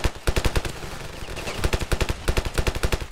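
Rapid automatic gunfire in the Ravenfield video game, bursts of loud evenly spaced shots in clusters with a dense battlefield din underneath and no talking.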